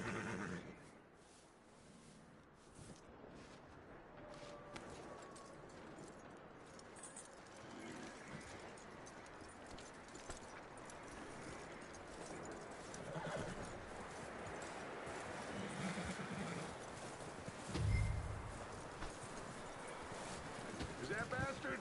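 Horse hooves clip-clopping steadily in the video game Red Dead Redemption 2, with a neigh and whinny, wind noise throughout and voices talking over the riding.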